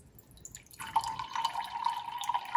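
Water running from a reverse osmosis faucet after the tank was pressurized, starting with a faint trickle and then turning into a steady, clear stream filling below, close and alone.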